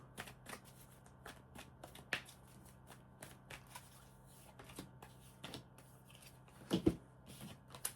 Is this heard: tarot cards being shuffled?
yes